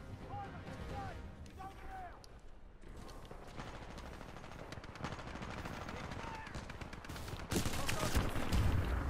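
Smart pistol gunfire in Titanfall 2 crackles through a quiet game mix, with rapid shots and bursts scattered across busy action sounds.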